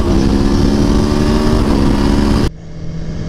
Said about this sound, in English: when you get on that throttle, man, when you crank it up in the RPMs, you can you can hear it